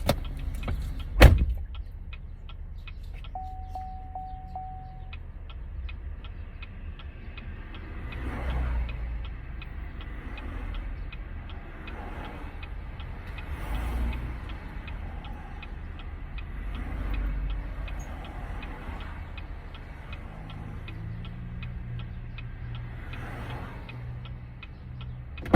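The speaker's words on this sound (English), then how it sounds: "as soon as I start recording, the traffic is gonna move" Cars roll past in moving traffic, their low engine rumble swelling and fading in several passes, with a sharp knock near the start and a faint steady ticking running underneath.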